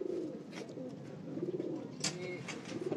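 Sialkoti and French pigeons coo steadily in soft, low, rolling phrases from several birds close by, a continuous layered murmur with a brief brighter flutter or rustle midway.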